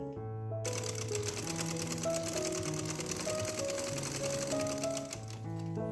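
A sewing machine runs steadily over printed kurti fabric, its rapid mechanical clatter continuous for several seconds at close range, with a tonal hum beneath.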